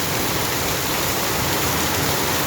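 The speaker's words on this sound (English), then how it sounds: "Nyahururu town is raining right now." Downpour in Nyahururu town: thick, constant roar of heavy rainfall striking surfaces, close and loud throughout, with nobody speaking.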